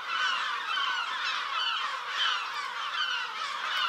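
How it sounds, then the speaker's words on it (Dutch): A busy flock of seagulls calls continuously outdoors near a supermarket, forming a dense, steady chorus of overlapping cries with no talk. "Het is in één keer heel druk. Met allemaal meeuwen."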